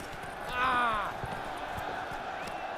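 In The Witcher 3 video game, a horse breaks into a gallop: rhythmic, fairly soft hoofbeats pound on while a brief vocal sound rises near the start.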